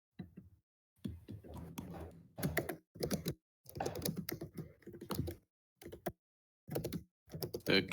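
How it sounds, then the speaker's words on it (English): Computer keyboard typed hard and fast during an online group session, coming in irregular bursts of clicking separated by short pauses, close and fairly loud with no voices. "The clickety clack of the keyboard sounds."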